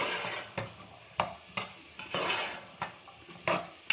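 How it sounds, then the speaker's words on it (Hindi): Chicken, carrots and onion being stirred in a hot pan for chicken rice, with a soft sizzle under a series of distinct spatula scrapes about every half second, close and moderately loud. "और साथ डाल दूंगी मैं इसमें प्याज और इसको मैं कर लूँगी थोड़ा सा मिक्स।"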